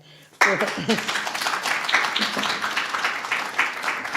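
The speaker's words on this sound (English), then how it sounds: "Give a clap there" An audience at a Universal Peace Federation peace session claps for a woman who educated thousands of women. The dense, steady applause starts suddenly and carries on without a break, with voices mixed in underneath.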